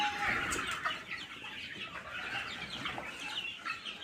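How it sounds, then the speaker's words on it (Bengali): Sonali chickens cluck and chatter together in a poultry shed housing several hundred birds, a faint, busy layer of overlapping clucks with no talk. "এই যে এই যে সব সোনালি মুরগি, এগুলো সব বড় বড় হয়ে গেছে"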